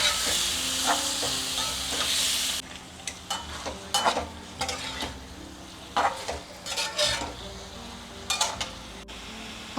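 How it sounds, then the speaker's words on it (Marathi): Pieces of katla fish frying in hot oil in a pan, a steady sizzle broken by repeated stirring and scraping clatters of a utensil against the pan, close and fairly loud with no talking. "आता तेलामध्ये आपण याची फ्राय करून घेऊ"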